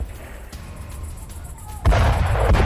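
Oil tankers blowing up at Belgorod airport in wartime, a heavy distant rumble building before a sudden loud blast that breaks in near the end and keeps booming.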